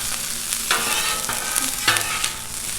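Jalapeno, onion and red pepper sizzling on a Blackstone griddle, with a steady hiss broken by a few louder bursts as the vegetables are tossed and scraped, close and without talk.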